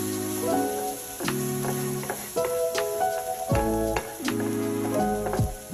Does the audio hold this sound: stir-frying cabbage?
yes